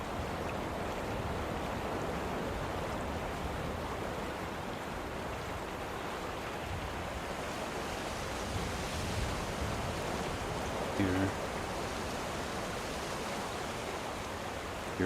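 A river flowing in a video game, a steady broad rushing of water, even and moderately loud throughout with a brief faint knock near the end, no voices.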